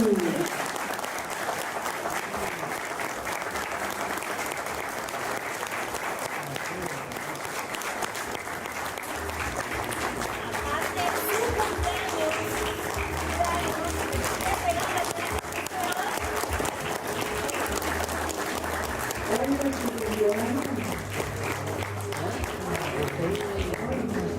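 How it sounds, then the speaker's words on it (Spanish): Sustained applause from a large audience at an anniversary rock event fills the whole stretch, steady and loud, with cheering voices and some music rising underneath. "Fuerte el aplauso para esta enfermera de ley."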